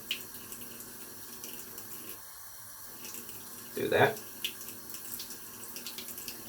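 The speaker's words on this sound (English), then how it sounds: "I'll still have the sink going" Water runs from a bathroom sink tap in a soft, steady trickle during a skincare routine. A louder splash comes midway, and a person speaks briefly nearby.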